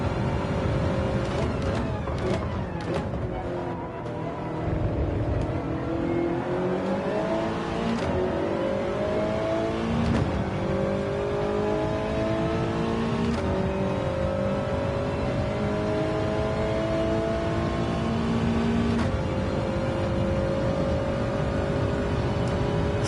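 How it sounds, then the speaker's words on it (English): A raspy race car engine in a video game revs and whines continuously, pitch climbing and dropping through gear shifts, loud and close for the whole stretch. "This car sounds so fun, man. It's so raspy."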